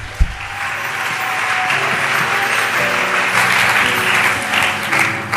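A church congregation applauds and acclaims Jesus, with steady, loud clapping from a large crowd filling the room for several seconds after a single sharp thump at the start.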